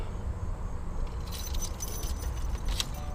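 Keys jangle and click in the ignition of a 2016 Subaru WRX, several light metallic rattles close by over a low steady background hum, with a sharper jingle near the end.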